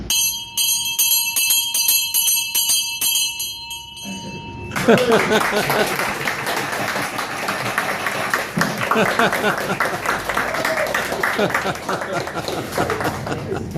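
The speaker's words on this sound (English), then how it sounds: "The bell rang." A classroom bell rings with a sustained metallic tone at the start, then cuts off as a burst of chatter, laughter and scattered clapping from a crowd takes over and continues to the end.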